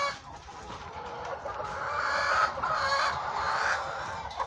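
A flock of young hens just starting to lay, in a new coop, clucking and murmuring steadily, with overlapping calls rising and falling at moderate volume throughout.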